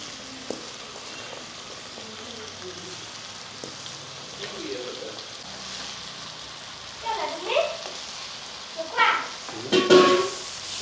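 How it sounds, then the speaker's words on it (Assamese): Meat frying in oil in a pan for an Assamese pork curry, a faint crackling sizzle with occasional stirring clatter that grows busier toward the end; no one speaks. "মাংসখিনি 4 মিনিটমান সময় ভাজিলোঁ আৰু ৰঙচুৱা হ'লগৈ তেল ওলালেগে"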